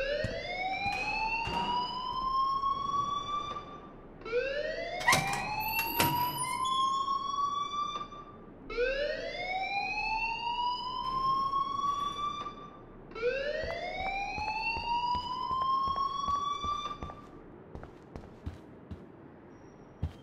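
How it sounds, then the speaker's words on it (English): A fire alarm wails in the video game Life is Strange, with four repeated rising electronic sweeps about four seconds apart, loud and close with a few faint clicks between them. "please turn off that alarm since that's your job"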